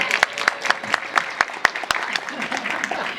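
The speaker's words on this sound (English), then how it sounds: "Okay, you're supposed to clap now." Audience clapping during a talk by a former F-4 Phantom pilot, a few seconds of scattered, fairly sparse handclaps with distinct individual claps, close and moderately loud.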